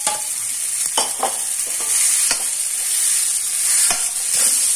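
Khoa fries in a hot pan with a bright, steady sizzle while a spoon scrapes and stirs it in irregular strokes, close and fairly loud, no voices.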